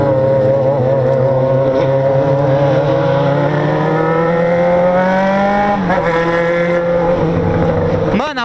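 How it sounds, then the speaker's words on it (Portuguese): A loud motorcycle engine climbs steadily in pitch as it accelerates, drops briefly, then revs again, heard close and continuous throughout. "Mano, a moto do Dona joga muita pedra, velho."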